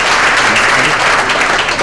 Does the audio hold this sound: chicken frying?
no